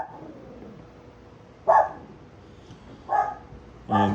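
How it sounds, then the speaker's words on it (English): Small dog barks indoors in a house, three short separate barks spaced a second or so apart, fairly close and clear over a quiet room. "As you hear, we got a little dog in here"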